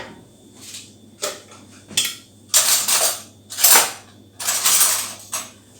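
Metal spoons clink and tap against a cup or jar while honey is spooned into a drink. Scattered, uneven clatters come close to the microphone, with quiet gaps between them.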